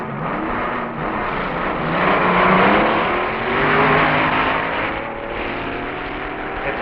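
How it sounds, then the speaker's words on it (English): A 1961 twin Chevy-powered A dragster, the Howard Cam Special, runs the Top Eliminator final against a Chrysler-powered dragster at the NHRA Winternationals, giving a steady, loud engine roar that swells and eases over several seconds without talk. "The Howard Cam Special, Jack Chrisman at the wheel in the final round with Tom McEwen driving Dick Ray's Chrysler-"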